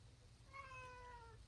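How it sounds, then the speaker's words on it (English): A pet cat meows once, a clear drawn-out call with a falling tail, close to the microphone in an otherwise quiet room. "my cat is bugging me like she used to"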